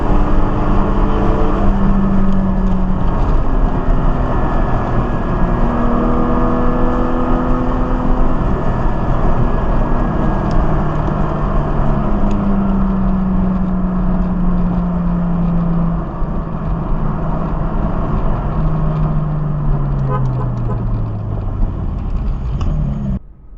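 Engine of a Corvette C8 Z06, loud and steady over the whole stretch, with pitch sweeps that rise and fall as it revs, and a rough, rumbling note throughout without clear voices.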